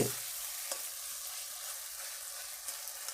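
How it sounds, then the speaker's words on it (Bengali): Fried flat beans stir-fried in a spice paste crackle with a steady, bright sizzle, broken by a few soft stirring scrapes, close and uninterrupted by voices. "এরপর ওই মশলার মধ্যে ভেজে রাখা শিমগুলো দিয়ে ভালো করে কষে নিতে হবে।"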